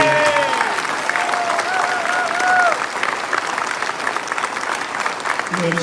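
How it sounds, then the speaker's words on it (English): Town hall audience breaks into sustained applause, a dense wash of clapping filling the room at steady loudness, with scattered voices and a few cheers over it. "Let's give her a round of applause for her."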